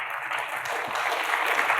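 An audience at a climate conference keynote applauding, a dense steady wash of clapping from many hands that holds throughout without a break.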